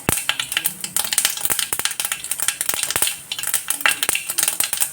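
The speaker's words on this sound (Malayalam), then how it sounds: "കടുകൊക്കെ നല്ല കടുവറ കടുവറ എന്ന് പറഞ്ഞ് പൊട്ടിക്കൊണ്ടിരിക്കുകയാണ്" Mustard seeds pop and crackle in hot coconut oil for a Kerala clam roast, a dense run of sharp, close, irregular ticks and snaps over a steady sizzle, with no talking.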